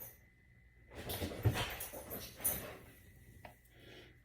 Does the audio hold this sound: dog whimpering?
yes